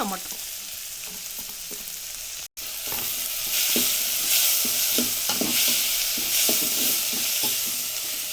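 Chopped tomatoes frying in an onion tempering for sambar, with steady sizzling and repeated scraping stir strokes of a spatula in the pan, close and continuous, with a brief cut partway through.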